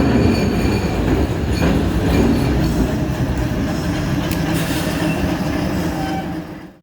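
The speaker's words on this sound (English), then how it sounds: "you can hear the streetcar here" A New Orleans streetcar rolls past on its rails, a loud, continuous rumble of wheels on track with faint squeals and clatter, fading toward the end.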